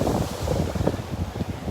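Ocean waves wash over a beach in North Naples, Florida, a rough, continuous surf rumble mixed with gusty wind buffeting a nearby microphone.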